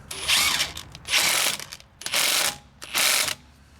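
A Ridgid subcompact brushless impact driver in auto mode hammers a car wheel's lug nut tight in four loud, close rattling bursts. Each lasts about half a second, with short pauses between them.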